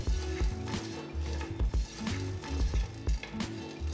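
Cashews roast with pepper, fennel and cumin seeds in a pan for palak pulao, a close sizzling with repeated scraping stirs and soft knocks from a wooden spoon, loud and without voices.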